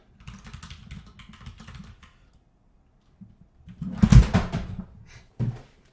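Loud keyboard typing comes in short bursts separated by pauses, with a louder flurry of heavy keystrokes near the end and a final clack.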